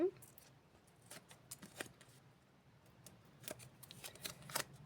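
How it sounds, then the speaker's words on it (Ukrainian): Faint crinkling and rustling of a small paper surprise packet being opened, a series of short crisp crackles close up in a quiet room. "Зараз я відкрию цей пакетик"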